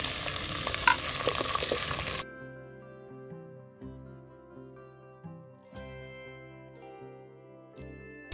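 Chicken pieces fry in a pot over a village wood fire, giving a dense, loud sizzle for about two seconds before it cuts away to quieter, tonal clinking sounds.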